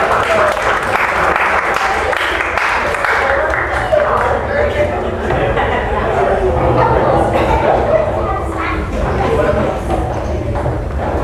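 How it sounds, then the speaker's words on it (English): Guests at a wedding reception in Austin applaud steadily as the best man is called up, a dense wash of clapping with scattered cheers and voices mixed in, lasting the whole stretch. "Let's give him a big round of applause."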